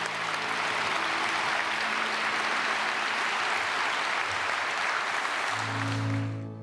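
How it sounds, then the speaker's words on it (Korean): A large church congregation at a Sunday praise service in Korea gives sustained applause, a dense, even roar of clapping that holds for several seconds before tapering off as a sustained tone rises. "우리 하나님께 영광의 박수 올려드리겠습니다."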